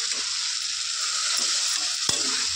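Dates and raisins being stirred with sugar in a hot pan, a steady frying hiss throughout with faint scraping and one sharp utensil knock near the end.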